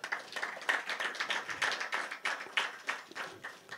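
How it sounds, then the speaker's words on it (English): An audience at a book launch gives a round of applause, heard as fairly thin, uneven clapping from a modest crowd, with distinct individual claps rising and falling rather than a full roar. "ask you to please give them a round of applause"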